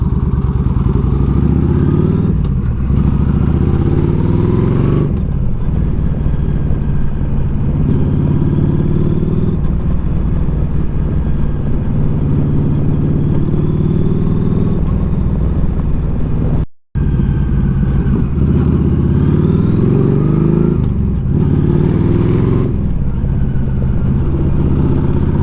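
A Honda ST1300 motorcycle on a morning ride toward York, Pennsylvania: a loud, continuous engine drone with steady wind and road rumble throughout, a brief dropout partway through, and no talking.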